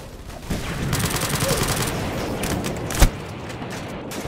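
Rapid automatic gunfire in the Roblox shooter Aimblox crackles steadily for a couple of seconds, followed by a single sharper, louder shot, all at fairly close range with no talk over it.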